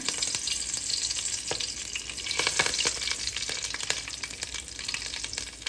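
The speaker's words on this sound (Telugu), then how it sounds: "దీనికి ఇవి దాసిన చెక్క లవంగాయి యాలకులు ఇవి వేసి కరివేపాకు వేస్తున్నాను" Cinnamon, cloves, cardamom and curry leaves fry in hot oil with a steady, loud crackling sizzle, broken by a few sharper pops and stirring clicks, close and with no talking.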